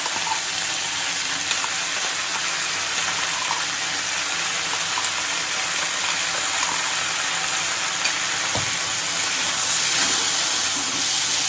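Mustard, poppy seed, fenugreek and radhuni spice paste goes into a hot pan for a bottle gourd shukto, giving a steady, dense sizzle and fry hiss that runs throughout with a brief stirring knock partway.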